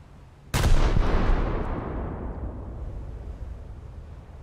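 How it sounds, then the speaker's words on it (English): Naval gunfire in a warship battle video game: one sudden loud blast with a sharp onset, then a long rumbling decay that slowly fades, with no talk over it. "Cible touchée par les obus."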